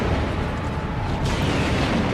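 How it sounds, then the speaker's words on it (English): An explosion in the film Star Trek VI: The Undiscovered Country, heard as a loud, sustained roaring blast that fills the whole clip. "Target that explosion and..."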